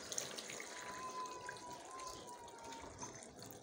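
Liquid poured into a pot of pondu, Congolese cassava-leaf stew with mosaka, during home cooking; a soft, steady watery pour runs quietly for several seconds.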